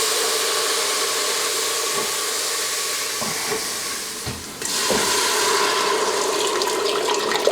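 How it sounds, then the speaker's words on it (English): Water splashes and sizzles into a pot of homemade tomato sauce with parsley, oregano and basil, a steady close hiss with a brief dip and surge in the middle and no voices. "I like to add a little splash of water in there."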